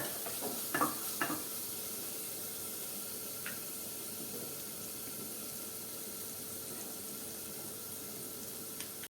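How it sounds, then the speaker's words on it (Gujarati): Tomato sautéing in a pan for a drumstick (sargava) curry, giving a steady, soft sizzle throughout with a few faint clinks of utensils near the start; no one speaks. "ટમેટામાંથી તે છૂટું પડી રહ્યું છે ટમેટું પણ સંતળાઈ રહ્યું છે"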